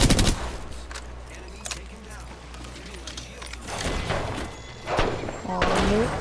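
Video-game shooting with rapid gunshots cracking in short bursts at the start and again near the end, separated by a quieter stretch, while a player talks throughout.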